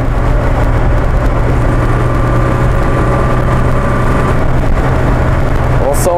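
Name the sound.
Alfa Romeo Alfa 6 car engine accelerating on motorway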